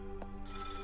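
A telephone bell in the horror game Maid of Sker starting to ring, a short bright onset after a brief tap, over a low steady hum.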